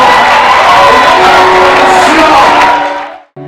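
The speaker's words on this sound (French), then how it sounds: "Donnez l'acclamation, l'acclamation, l'acclamation. Une acclamation." A large church congregation at a special prayer service for Burkina Faso roars and cheers loudly and continuously in acclamation, voices blending into a sustained wave that drops away abruptly at the end.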